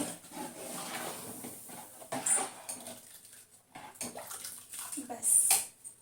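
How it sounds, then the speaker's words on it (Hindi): Water is poured into a cooking pot on the stove while making kheer, a soft splashing with clinks of the pot, under someone talking in Hindi. "अब हम इसमें पानी ऐड करेंगे।"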